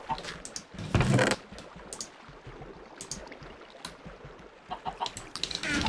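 Minecraft chickens cluck in short, scattered bursts inside a snowy enclosed build, with a louder flurry near the start and more soft, irregular clucks continuing through the rest.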